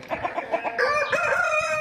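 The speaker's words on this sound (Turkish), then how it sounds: "Bunlar bizim baş horozlarımız." Head roosters in a flock kept in a coop sound off nearby, a few short clucks followed by a loud drawn-out crow.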